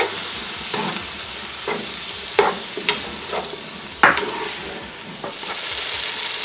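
Onion, tomato and green chilies sauté in a pan for Kerala-style Mughal chicken biryani. A steady sizzle runs under sharp, irregular spatula scrapes and knocks, with the frying swelling louder toward the end.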